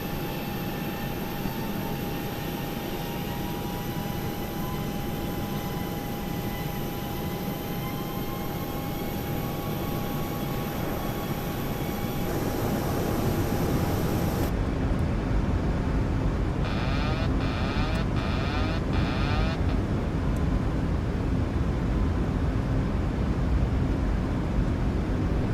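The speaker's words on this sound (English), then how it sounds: "Slow down the airplane, get it ready for landing." An airplane in a flight simulator game slows for landing with its landing gear dropping, producing a steady broadband engine and wind drone that shifts tone partway through, with a few faint clicks near the end.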